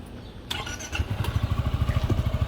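A Yamaha XMAX scooter engine with a broken exhaust pipe starts and settles into a loud, rough, sputtering idle with a rapid uneven popping rhythm, close by.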